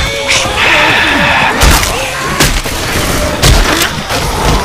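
Video game gunfire in a haunted forest level, with several loud booming shots and thuds at irregular intervals over a steady background din, with excited players talking in between.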